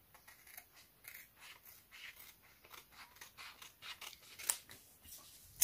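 Scissors snip steadily through paper product labels, a quick run of close, crisp cuts at an even rhythm with a louder snip at the end, no speech.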